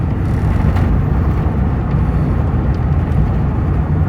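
A 1999 Chevrolet Silverado work truck with a blinking service engine light rumbles along from inside the cab, steady low road and engine noise with faint rattles mixed in, no speech.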